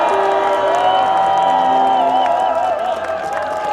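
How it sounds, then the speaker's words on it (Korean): Crowd cheering and clapping at a national emergency prayer rally in Sejong, South Korea, welcoming a former prime minister. Steady, loud and sustained, with whoops and a rising tonal shout or whistle over the dense crowd noise. "큰 박수 한번 드리시죠."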